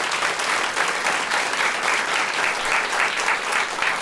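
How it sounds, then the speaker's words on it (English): Sustained audience applause fills an outdoor green space at a live radio talk show taping, a dense, steady wash of clapping that holds at even loudness with no voices over it. "who just got the first sustained applause for an answer in the green space today, is Rutgers professor Brittney Cooper"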